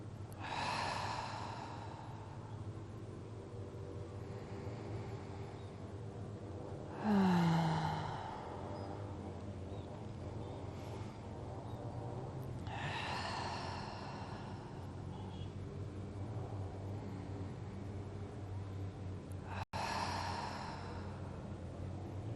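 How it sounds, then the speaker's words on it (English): Slow, deep breaths during a yoga session, each long inhale and exhale drawn toward the belly, soft and close with a few seconds between them over a faint room hum. "Breathing towards the belly."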